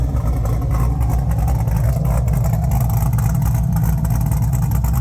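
A steady, deep engine note from an LS3 V8 in a 1969 Camaro runs throughout at a constant level, with a rough burbling pulse from a custom exhaust.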